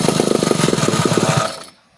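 A chainsaw engine, freshly carburetor-cleaned, revs in rapid pulsing bursts with a rough, uneven throttle, then cuts out and falls quiet near the end.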